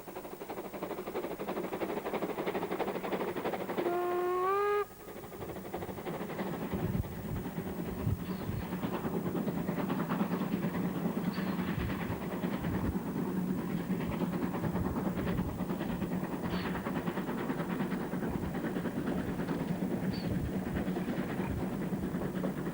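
A train runs along a railway line on the border with Czechoslovakia, its steady loud rumble and rhythmic wheel clatter continuing throughout, with a brief horn-like tone near the start.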